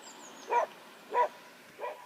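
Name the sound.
dog barking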